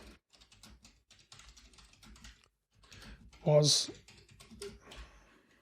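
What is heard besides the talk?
typing code on a computer keyboard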